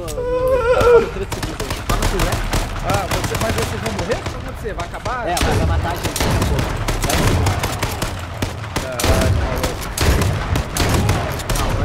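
Rapid gunfire from the H1Z1 battle royale video game crackles in dense, continuous bursts, loud and sustained throughout, with excited players talking and shouting over the shooting.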